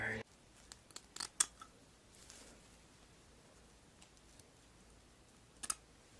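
Small brow cutter snipping through wig lace, a few crisp close clicks and snips scattered over a quiet background, louder near the start then sparse.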